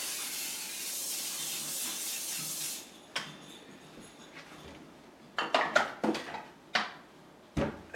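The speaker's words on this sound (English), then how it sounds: "I'm gonna spray a non-stick spray on both these pans" Non-stick cooking spray hisses onto two pans in a steady burst for about three seconds, followed by sharper clatters and clinks of pans and utensils being handled nearby.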